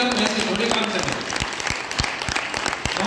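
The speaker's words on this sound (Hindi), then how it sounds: "ताली बजाओ जोरदार" An audience claps loudly and continuously at an Arya Samaj gathering with devotional singing. The applause is a dense, steady wash, with voices faintly mixed in.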